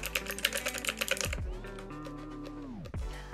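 Someone rapidly clicks the small keys of a pixel-art tech gadget, producing a quick run of sharp, close taps. The tapping stops and a sustained electronic tone follows, with a few more clicks at the end.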